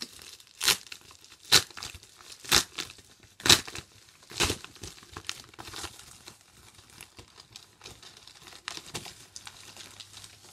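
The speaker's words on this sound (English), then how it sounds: "let's open the package" Packaging is torn and crinkled open during an unboxing, several sharp rips at roughly one-second intervals followed by softer rustling and crumpling close by, with no talking.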